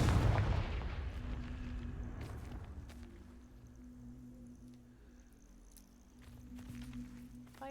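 A Confringo fire spell blasts in Hogwarts Legacy, a loud burst that fades into a low crackling, humming rumble with scattered sharp clicks and impacts, no voices.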